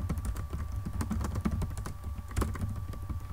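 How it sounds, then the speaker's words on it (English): Typing on a computer keyboard while entering company details into an Excel spreadsheet: quick, irregular clicks of keys at close range, quiet and steady with no talking. "we're just going to get started typing in some generic information up at the top"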